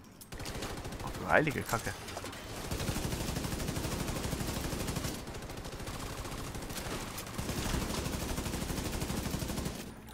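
Enemy gunfire in The Division 2 hardcore mode, rapid automatic bursts rattling steadily for several seconds, loud and close, with a man exclaiming briefly early on.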